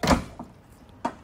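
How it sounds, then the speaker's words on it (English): A soft-close door on a 2010 Mercedes-Benz CL500 5.5 V8 coupe thumps shut, followed by a smaller click and a second firm latch about a second later, close by and alone. "perfect soft close around the car as well, including the doors."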